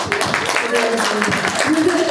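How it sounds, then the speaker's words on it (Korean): Audience applause at a film screening Q&A with the cast in a cinema, brisk clapping that continues throughout while voices are heard over it. "박수 한번 드릴까요?"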